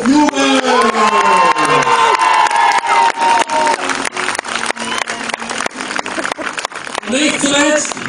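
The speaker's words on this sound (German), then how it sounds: "Jubel!" A crowd at a medieval festival tournament in Riegersburg roars and cheers loudly with whoops, rising and falling in waves, while a single announcer's voice calls out over it at the start and end.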